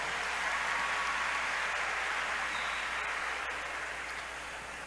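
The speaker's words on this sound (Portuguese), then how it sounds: "Vamos aplaudir a palavra do Senhor." A church congregation applauds after a Gospel reading, producing a steady, soft wash of many distant hands clapping that fades slightly toward the end.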